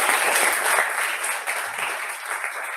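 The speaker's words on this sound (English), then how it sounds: "can we get another round of applause for all of them?" An audience applauds in a full, steady burst of clapping that holds throughout, a dense wash of many hands at fairly close range.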